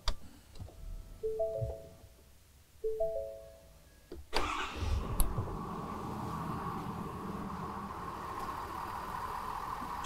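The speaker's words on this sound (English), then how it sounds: "So I'm gonna start the truck just so you guys can hear it." A 6.7L Ford Powerstroke diesel pickup fitted with a DCR fuel pump kit starts up: a few beeping chimes and clicks, then a short crank and catch into a steady, rumbling diesel idle that continues at close range.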